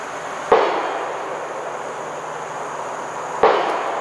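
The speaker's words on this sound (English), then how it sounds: "He done shot my vlog all to pieces with his gun over there" Two sharp gunshots from a neighbor's gun nearby, spaced about three seconds apart, each a sudden loud crack trailing into a short echo over steady outdoor background hiss.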